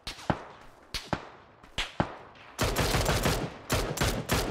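Gunshots ring out in the battle royale game PUBG near a ferry pier warehouse, first as single sharp cracks spaced about a second apart, then as a sustained burst of rapid fire.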